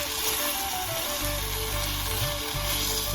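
Hot oil sizzles loudly and steadily in a pan while tempering is done for a taro leaves curry in a village kitchen, a close, continuous frying crackle with no talk.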